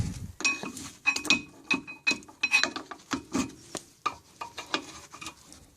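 An old brake pad is pried off a Mercedes SLK or CLK brake caliper, heard as a close series of light metallic clicks, clinks and scrapes in an irregular rhythm, fairly quiet, with no talking.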